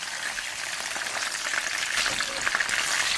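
Steady, crackling sizzle of fish, then a salmon head, frying in hot oil, close and continuous, with dense bright spatter throughout and no voices.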